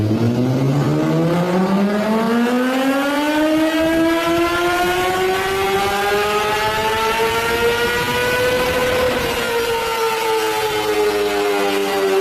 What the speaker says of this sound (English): Now, we are conducting an engine power test on it.